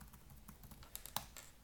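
Fast typing on a computer keyboard, a quick run of close, light key clicks with a couple of sharper taps near the end.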